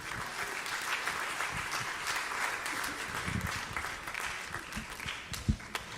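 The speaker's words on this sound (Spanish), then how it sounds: "Puede sentarse y dar un aplauso a Jesús." A large church congregation applauds steadily, a dense wash of clapping heard from within the room, with scattered louder claps near the end.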